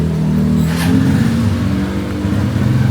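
A Yamaha Aerox v3 scooter engine runs steadily after starting, a close, continuous low motor drone with slight revving swells and no talking.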